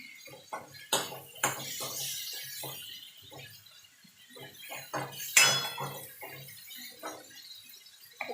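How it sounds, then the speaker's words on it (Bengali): Spoon stirring tomato and turmeric in a pan while cooking masoor dal, with a series of light metallic clinks and scrapes at an uneven rhythm, close and fairly quiet, with no talking. "তো হলুদটা দিয়ে একটুখানি নাড়াচাড়া করে নেব।"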